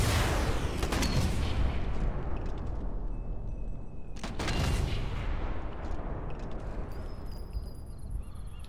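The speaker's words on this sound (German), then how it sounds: "Gleich kommt der Schuss." Gunfire in the shooter game Sniper Elite 4, with two sharp, loud rifle shots several seconds apart, each trailing off into a long echoing rumble over a constant low background.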